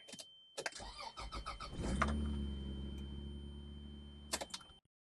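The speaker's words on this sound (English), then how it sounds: "So I'm going to crank it." A car engine cranks on a low battery, the starter grinding slowly and laboriously for a few seconds after some clicks, heard up close with no voices.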